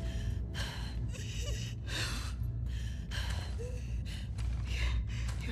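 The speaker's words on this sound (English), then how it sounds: "You're breathing spores." Labored, gasping breaths of a character infected by spores in The Last of Us Part II, a close, rhythmic series of strained inhales and exhales over a low droning ambient rumble.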